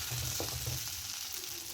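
Onion, tomato and green chilli sauté in hot oil for a potato roast, giving a soft, steady sizzle with light stirring, faint and close with no talking.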